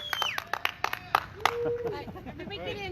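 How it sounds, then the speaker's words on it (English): A few people clap for race winner Chad Britnell of Bad Mojo Motorsports at a drag racing points event, sparse claps near the start, then a voice speaks as the clapping fades. "let's have a round of applause. Chad Britnell, your winner tonight."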